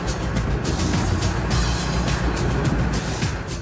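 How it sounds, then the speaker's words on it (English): A truck loaded with harvested sweet corn drives past, its steady engine rumble and road noise holding loud and close throughout with no voices. "the mass of corn gets transferred to a truck that goes straight off to the factory"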